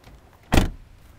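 A single short motor whir from the power windows of a 2002 Oldsmobile Alero, a brief burst lasting about a fifth of a second against a quiet interior, with no other sound around it.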